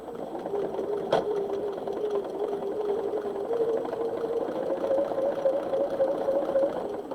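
Sewing machine stitching quilt squares together, a steady continuous whirring hum at moderate volume with a single brief click near the start, no talk over it.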